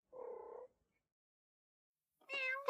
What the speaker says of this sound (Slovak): Kocúrik.